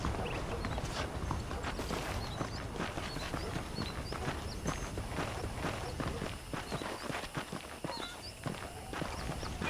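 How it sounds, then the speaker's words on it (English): Saddled horses trotting in the Red Dead Redemption video game, a steady, close clip-clop of hooves running continuously and fairly loud throughout, with no one speaking over it. "The horses are saddled up over here."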